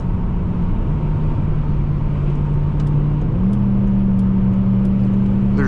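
A 2010 Volvo S80 V8 AWD accelerating, heard from inside the car as a loud, continuous engine drone that steps up in pitch partway through.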